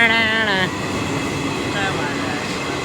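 A short horn blast gives way to a steady, heavy rumble of a train rolling past nearby through Derol station.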